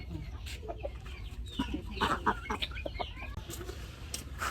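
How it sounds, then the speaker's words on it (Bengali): A hen clucks close by in a rural village household after laying an egg, giving a run of uneven cackles with rustling in between and no talk. "আজকে ডিম পারছে মুরগিতে"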